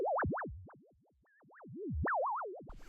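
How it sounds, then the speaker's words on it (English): SuperCollider noise generator with linear interpolation at 8 steps per second, producing a tone that glides in straight zigzag lines between random pitches, loud and alone, ending in a burst of hiss. "So a noise generator, 8 times a second with linear interpolation."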